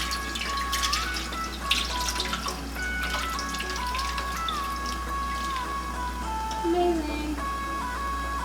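A jar of sour cherries is poured slowly into a pot on a high-to-medium stove. Liquid trickles and splashes steadily and close by over a constant low hum, with no talking.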